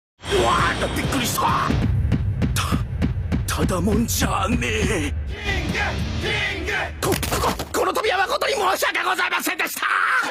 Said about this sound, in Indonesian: suara detak jantung King yang disebut dengan King Engine